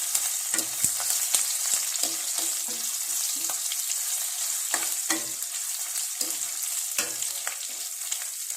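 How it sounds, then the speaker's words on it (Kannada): Cumin, coriander, curry leaves and garlic frying in a pan, a steady close sizzle and crackle with repeated stirring scrapes throughout and no voices. "ಜೀರಿಗೆ ಕೊತ್ತಂಬರಿ ಜೀರಿಗೆ ಬೊಕ್ಕ ಮುಂಚಿ ಮತ್ತೆ ಬೇಸೊಪ್ಪು ಬೆಳ್ಳುಳ್ಳಿ ಫ್ರೈ ಮಾಡ್ತದೆ"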